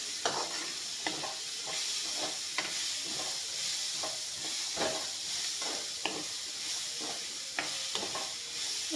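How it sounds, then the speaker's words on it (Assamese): Peas and green chillies fry in a pan with a continuous sizzle, broken by repeated scraping stirs at a steady rhythm, close and moderately quiet with no talking. "এতিয়া মটৰ জলকীয়াখিনি একেলগে দি দিছোঁ। মটৰখিনি অলপমান ভাজি লৈ নিমখখিনি দি দিম।"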